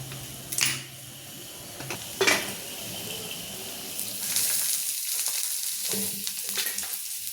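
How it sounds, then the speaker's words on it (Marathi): Finely chopped coconut roasting in a little oil in a pan, a soft continuous sizzle with a couple of sharp stirring scrapes, fairly quiet and close, no talking. "आता याच्यात खोबरं बारीक कापून टाकते आणि थोडंसं तेल टाकून भाजून घेते"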